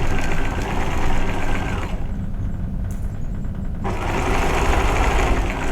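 A sewing machine stitches vest darts with a continuous close, loud mechanical whir and rapid needle clatter, briefly easing in the middle before running on at full speed.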